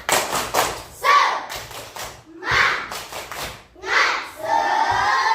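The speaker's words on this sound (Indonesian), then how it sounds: "Tepuk semangat." A classroom of children performs a rhythmic spirit clap on cue, bursts of patterned clapping alternating with shouted chants and a teacher's voice between rounds.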